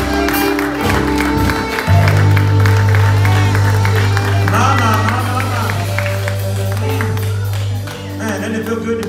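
A church congregation claps along during a service, quick claps under loud organ-like music and voices.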